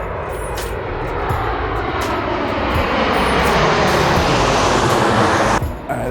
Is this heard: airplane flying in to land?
yes